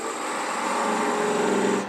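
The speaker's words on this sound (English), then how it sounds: "I'm just going to see if I can't get in there with a round skew." Wood being turned on a lathe with a 1/4 inch round skew chisel, cutting fine detail on an ornament finial: a steady, close scraping hiss that holds evenly for about two seconds, then cuts off.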